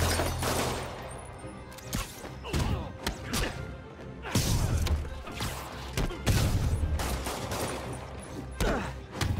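Thugs fire guns in the Spider-Man PS4 game amid a chaotic fight, a rapid string of sharp shots, thuds and crashing impacts, dense and loud throughout.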